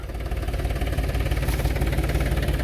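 A tractor engine runs steadily at idle, a low continuous chugging rumble with no voices.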